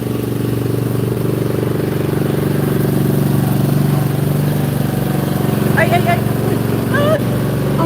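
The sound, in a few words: engine of a lawn seeding machine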